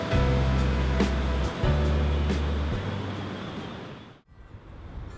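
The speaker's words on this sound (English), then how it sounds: "listen to the waves" Ocean surf washing steadily at a Marquesas Islands site among tikis and stone statues, a loud continuous roar with low engine-like hum in the first seconds, then fading briefly and returning softer.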